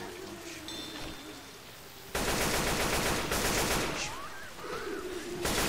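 Gunfire in Left 4 Dead 2 on a rainy map: dense bursts of shooting come in as loud, sustained volleys, with gaps between them filled by steady rain noise.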